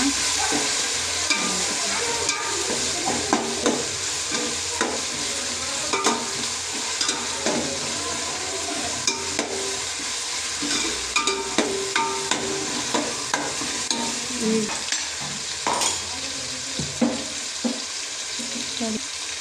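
Homemade ginger garlic paste fries in a pan for a Mangalorean-style chicken dish, a steady close sizzle broken by repeated clicks and scrapes of stirring throughout.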